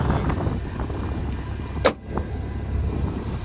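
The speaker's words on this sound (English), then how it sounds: "so it's probably why the fans are spinning." Cooling fans of a 2014 Porsche 911 Carrera S spin on a very cold day, giving a steady, close broadband whir. A single sharp click cuts through partway in.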